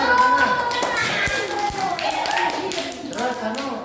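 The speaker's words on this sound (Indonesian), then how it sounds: "Oke, tepuk tangan." Children in a classroom clap together after a geography lesson answer, a brisk stretch of hand claps under children's voices and a ringing tone.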